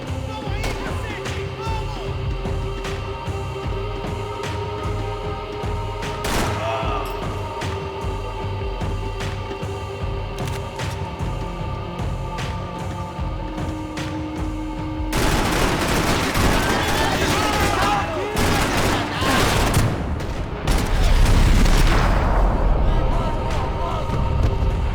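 Gunfire in the video game Max Payne 3, with repeated sharp shots over a steady game soundscape, growing into a denser, louder burst of firing toward the end.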